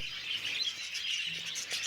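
White Java sparrows kept in a separate cage on a small bird farm chirp continuously, a faint, busy mix of high twittering calls with no talking.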